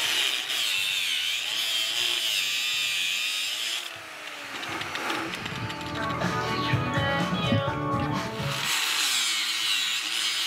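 Quick-disconnect fittings on an E46 BMW being cut, a loud, continuous rasping cut with a brief dip midway before the grinding resumes, close and alone.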